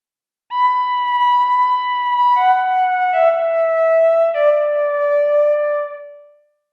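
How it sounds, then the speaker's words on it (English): A synth organ preset on a Teenage Engineering OP-1 Field plays a slow, sustained descending melody of a few long held notes, steady and clear with no talking, ending in a short fade. "In this case, we're going to be using the synth organ preset that I come up with."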